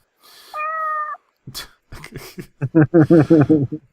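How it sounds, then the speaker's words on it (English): A cat meows several times up close, a few drawn-out cries followed by a quick run of short, rhythmic meows. "Does that sound like a happy cat?"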